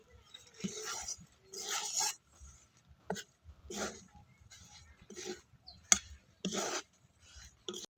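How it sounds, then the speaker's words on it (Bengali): Rice flour is worked into water by hand, making repeated wet rasping and squelching bursts of rubbing and kneading, close and distinct, with short pauses between strokes. "এবার আমি ভালো করে মিক্স করে নিচ্ছি জলের সাথে"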